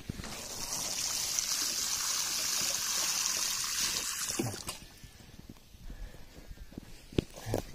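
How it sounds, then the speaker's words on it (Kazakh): Water pours and trickles into a hole dug around a newly planted apple sapling, a steady running stream that stops halfway through, followed by faint soft thuds and shuffling. "сразу артынан су құямыз."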